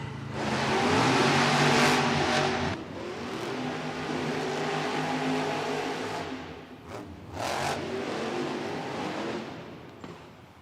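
Monster truck engines rev loudly at a Monster Jam arena start line in Southaven, Mississippi, a sustained roaring drone with surging throttle bursts and crowd-filled arena noise, no talk.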